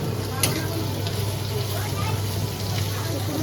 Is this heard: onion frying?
yes